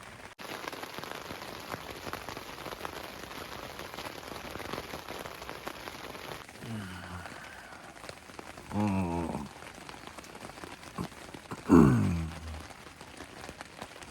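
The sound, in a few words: rain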